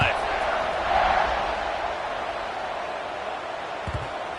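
Stadium crowd noise in a college football video game, Oregon at Baylor, a steady broad roar of fans rising slightly early on and then holding at a constant level, with a faint low thump near the end.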